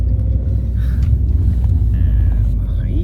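Steady low engine and road rumble inside a taxi being driven around town, a continuous muffled drone with faint higher tones drifting over it and no one speaking.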